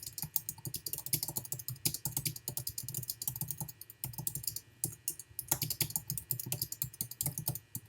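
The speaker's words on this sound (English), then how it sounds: "I'm going to type this since I type much better than I write by hand" Fast, steady typing on a computer keyboard, close and crisp with dense clicking keystrokes and brief pauses between bursts, no talking.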